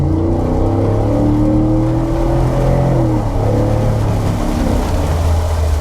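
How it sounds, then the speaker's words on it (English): A 2021 Ford F-150's 5-liter V8 drones loudly and steadily in the rain, its pitch wavering up and down as it revs, close and continuous with no voices. "this 5-liter engine definitely sounds like a 5-liter engine"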